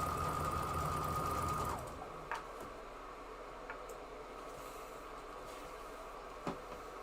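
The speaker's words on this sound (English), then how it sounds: "I'm just going to go ahead and sew these up together." A sewing machine runs steadily for under two seconds while quilt binding strips are joined, then stops, leaving faint handling noises and occasional soft clicks in a quiet room.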